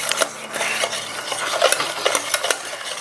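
Curd and jaggery being whisked together in a bowl for an eggless brownie, giving a steady, close scraping and clinking stir with repeated rhythmic strokes, with no talking.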